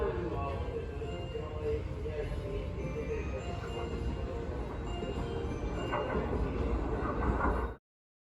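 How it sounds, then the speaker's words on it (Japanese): Steady low rumble of a train rolling into Tsushima-nomiya Station in Japan, continuous and fairly close, with faint metallic squeals before it cuts off abruptly. "The train is arriving soon."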